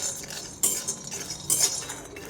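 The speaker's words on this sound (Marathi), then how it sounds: "प्रथम आपण शेंगदाणे भाजून घेऊया।" Peanuts roast in a hot kadhai for a chilli kharda, with a utensil scraping and clinking against the pan in a few sharp bursts over a faint background hiss.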